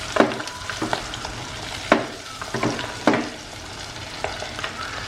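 Food frying in plenty of oil over a low flame, a steady soft sizzle broken by several sharp scraping stirs of a utensil against the pan, close and alone with no talk.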